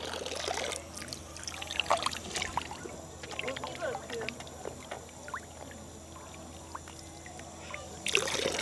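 Water poured out for drinking beside a Swiss village at Iseltwald during a caravan trip: a soft, steady trickle and splash, fairly quiet against faint outdoor background noise.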